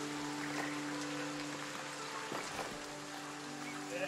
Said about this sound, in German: Da kommt gerade nichts bei rum wegen dem verdammten Regen.